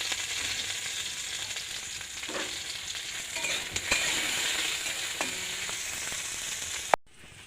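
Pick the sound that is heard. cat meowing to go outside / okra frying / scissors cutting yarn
okra frying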